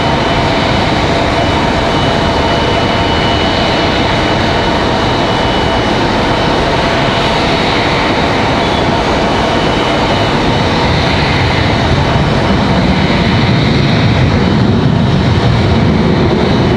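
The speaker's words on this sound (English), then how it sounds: "this 737 arriving from Charlotte, something we don't see very often" A Boeing 737 jet arriving from Charlotte at Raleigh-Durham International Airport, heard as a loud, steady broadband engine roar that holds for the whole stretch with no break.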